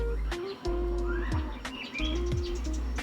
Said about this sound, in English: Some birds. I don't know what these birds are.